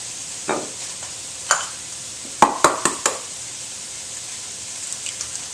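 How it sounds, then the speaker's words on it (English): Two eggs cracked into a small bowl: a few sharp taps and cracks cluster near the middle, with lighter knocks before and after, close and fairly clear, no talking. "Now we're going to crack our 2 eggs in a little bowl."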